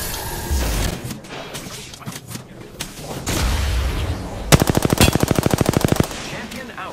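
Gunfire in a shooting video game, scattered shots and impacts followed by a loud rapid machine-gun burst of about fifteen evenly spaced rounds lasting a second and a half, with faint game voices underneath.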